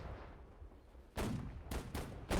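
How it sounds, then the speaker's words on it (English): Ships' cannons firing in a naval video game match, heard as three loud, sharp blasts in quick succession over a low rumbling game background with no talk. "Every ship right now is using its cannons on the Leviathans"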